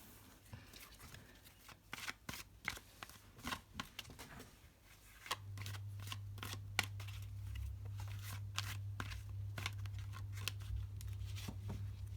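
Soft, irregular papery clicks and riffles of tarot cards being shuffled, quiet and close, with a low hum joining partway through.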